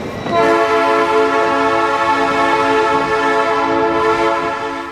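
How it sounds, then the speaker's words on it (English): A loud, sustained train horn blares close by over a low rumble as a train arrives at a railway station, holding steady for several seconds before easing off. "That's Delphine's train"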